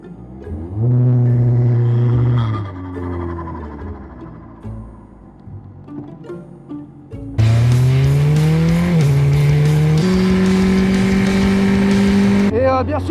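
A Formula 4 race car on a circuit, its engine revving up through the gears in rising, falling howls, then a louder, harsher full-throttle scream closer to the microphone, with slick tyres on the track.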